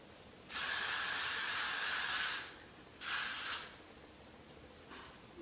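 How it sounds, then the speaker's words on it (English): Freeze spray from an aerosol can, two hissing bursts, a long steady blast of about two seconds followed by a shorter one, close and clear, with no voices. "I then take my freeze spray."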